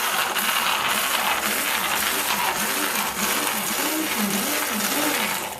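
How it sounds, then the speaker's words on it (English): A stick blender whirs loudly and close in a pot of tamarind chutney, a steady motor drone with wavering, pulsing pitch as it churns the thick mixture, running continuously for several seconds. "I've got my trusty stick blender, and I'm just going to go in and pulse this"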